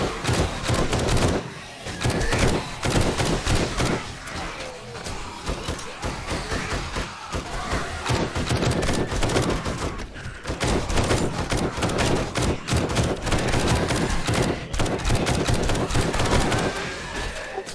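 Loud, nearly continuous gunfire during a co-op horde night in 7 Days To Die, overlapping rapid shots and bursts running throughout with brief lulls, alone without talk.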